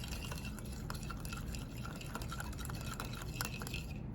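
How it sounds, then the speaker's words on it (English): Garlic, kosher salt and black pepper get whisked together in a bowl for a spicy chili sauce, a soft, continuous scraping stir with faint wet clinks, close and quiet with no talking. "let's whisk that together"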